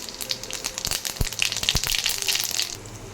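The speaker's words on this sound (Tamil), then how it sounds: "பார்த்திங்கன்னா சீரகம் நல்லா பொரிஞ்சிச்சு" Cumin seeds, added after mustard seeds, splutter and crackle in hot oil for a lentil thuvaiyal, giving a close, continuous sizzle dotted with sharp pops.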